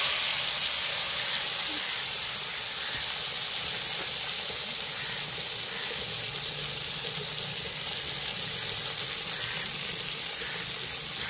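Fish frying in a pan of oil, a loud steady sizzle and hiss that runs unbroken throughout, close by with no talking.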